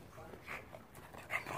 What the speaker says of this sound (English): Puppies, come this way.